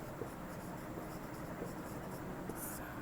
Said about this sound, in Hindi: तो गुणनफल लिखेंगे